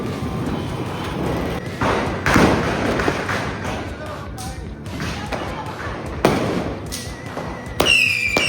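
Diwali firecrackers burst in a rapid string of loud, close bangs and thumps over several seconds, with people talking throughout.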